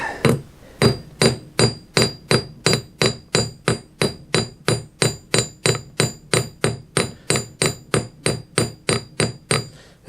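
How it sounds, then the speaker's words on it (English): A hammer lands light, evenly spaced ringing strokes on a forged metal bracelet, about two blows per second, crisp and close with no talking. "I am just doing very light strokes just to make the hammer marks where I want them to be"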